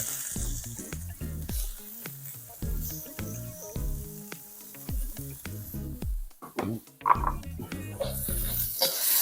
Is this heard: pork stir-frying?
yes